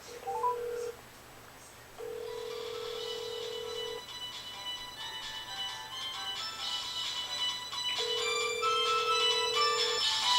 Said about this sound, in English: Hopefully you can hear the one in the microwave ringing